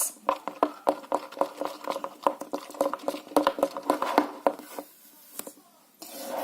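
Wet, squelchy slime being stirred and squished after foam soap and lotion are mixed in, a close run of quick sticky pops and smacks that tapers off into a quiet pause before picking up again.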